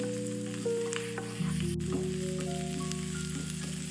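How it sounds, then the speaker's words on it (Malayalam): Green chillies and sliced onion frying in a pan for a Chinese-style chicken dish, a steady close sizzle with soft stirring underneath and a faint background hum. "സവാള ഇട്ട് കൊടുക്കാം."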